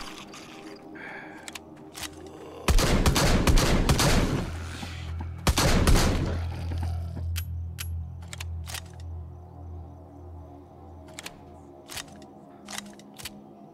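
Rapid gunfire empties a full magazine in the VR zombie game Arizona Sunshine, two dense loud bursts of shots separated by a pause, then scattered single sharp clicks and pops over a low background hum.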